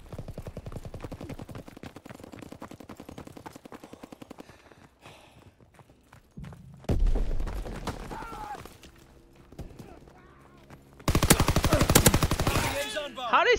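Rapid automatic gunfire from a first-person shooter match, a long dense burst of shots, then scattered bangs, a heavy blast near the middle, and another loud sustained volley near the end, with occasional talk mixed in.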